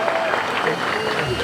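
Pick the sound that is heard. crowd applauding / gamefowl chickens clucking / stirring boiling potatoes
crowd applauding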